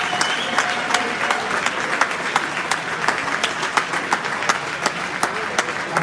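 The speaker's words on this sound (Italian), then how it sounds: "se facciamo un applauso" An audience applauds a boxer who has just won a belt at an Olympic boxing event in Sarcedo, a steady, even round of clapping with distinct sharp claps throughout.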